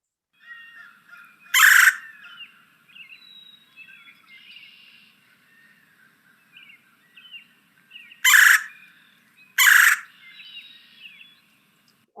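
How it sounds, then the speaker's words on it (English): Three loud, rolling churr calls from a red-bellied woodpecker, one early and two close together later, ring out over a busy background of softer songbird chirps and whistles. "let's hear the red-bellied woodpecker"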